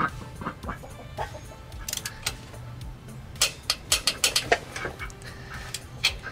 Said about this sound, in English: He's under my butt right now, quacking.